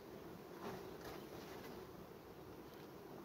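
Honeybees from two small swarm colonies in a hive tended in July give a faint, steady low buzzing hum that continues without pause throughout.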